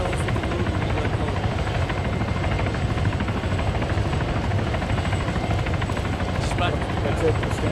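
Military helicopters idle at a staging area during a task force operation, a loud, steady rotor and turbine roar filling the scene without pause, with indistinct voices mixed beneath it.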